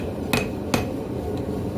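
A steel herb chopper is hammered flat on an anvil at a forge, two sharp ringing strikes close together followed by a fainter third tap.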